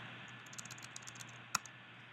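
Light typing on a computer keyboard while entering a math equation, a quick run of soft key clicks ending in one sharper tap, quiet and close.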